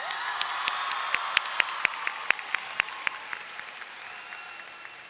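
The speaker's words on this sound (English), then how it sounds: "Please give a round of applause for Mr." Applause from a crowd at a high school graduation ceremony, with several loud distinct claps standing out near the front over softer background clapping that gradually fades toward the end.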